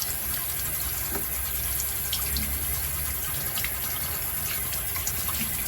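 Tap water runs steadily into a sink while a face is rinsed, a continuous close splashing gush with no voices over it.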